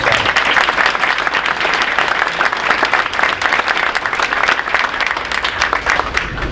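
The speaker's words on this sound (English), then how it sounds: "So how about a round of applause for our coaches?" Loud, dense applause from an audience at a spring 2023 school sports awards ceremony, honoring the coaches; steady crowd clapping fills the whole stretch without letup.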